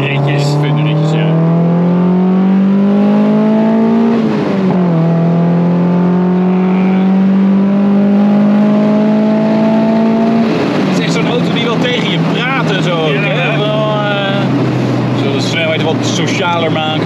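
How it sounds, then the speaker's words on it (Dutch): Mazda MX-5 NC sports car with BBR GTI 225 tuning and individual throttle bodies revs loud and close, rising and holding high twice before dropping back to a rumbling idle. "met name de ITB's, die maken vrij veel lawaai, hè, als je ze lekker op hun falie geeft"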